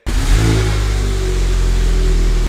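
A modified, previously wrecked VW Golf R engine cranks and catches, then settles into a loud, steady running rumble close by.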